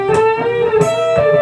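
A short electric guitar lick from a solo, three picked attacks with sustained, sliding notes, close and fairly loud with no talking.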